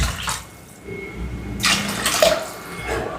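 Water poured into a pot of rice that has been fried in oil to make bagara rice, giving a close, rushing splash that swells after a brief pause and runs on steadily with no talk.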